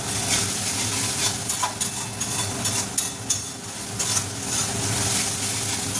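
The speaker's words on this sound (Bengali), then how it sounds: "এটা ততক্ষণ অবধি নাড়তে হবে যতক্ষণ না আদা রসুনের কাঁচা গন্ধটা চলে যায়" Ginger-garlic paste sizzles in oil in a pan, stirred for a Bengali potol curry, a dense continuous frying hiss close by with repeated scraping strokes of the spoon.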